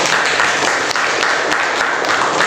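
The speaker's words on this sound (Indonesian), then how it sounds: "Oke, kita kasih tepuk tangan dulu." Classroom applause from students at the end of a lesson, a loud, dense and even clatter of clapping that fills the room without pause.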